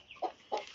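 Two short clucks from a hen that has just laid an egg come quietly and close, spaced about a third of a second apart.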